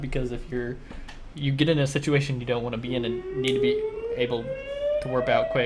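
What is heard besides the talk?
storm warning sirens outside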